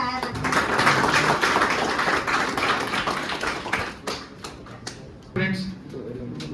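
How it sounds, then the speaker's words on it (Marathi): Students in a classroom clap together in a loud, dense round of applause that thins out after about four seconds, with a short final burst of clapping near the end. "काय मार्क्स घेतले, सगळ्यांनी टाळ्या वाजवायच्या."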